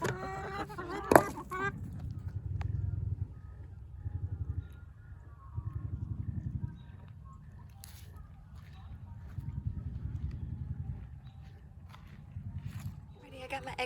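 Hens in a backyard coop cluck and murmur at close range around someone's feet, soft repeated clucks rising and falling in bursts, with someone talking over them now and then.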